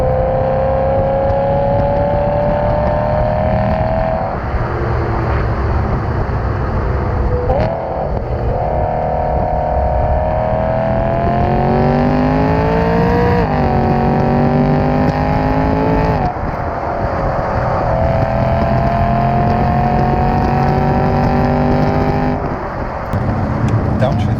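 A BMW M3 V8 revs loud and close through steady acceleration, its engine note climbing in pitch across several gears, with a downshift blip near the end; the drone holds throughout.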